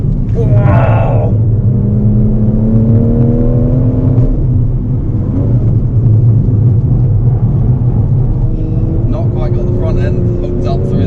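A BMW M140i hot hatch with a manual gearbox accelerates around Llandow Circuit, its engine droning and rising in pitch as it climbs through the gears, with cabin rumble and people talking over it.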